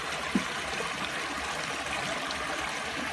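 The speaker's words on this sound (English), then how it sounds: "This is the beautiful creek that we're crossing." Creek water flows under a bridge in a Vermont forest on a hike, a steady, soft rushing trickle heard continuously and close.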